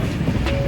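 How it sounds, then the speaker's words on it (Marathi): A passenger train rumbles steadily, heard from inside a carriage, with a dense continuous roar of wheels and rails. "ट्रेन में बैठा है"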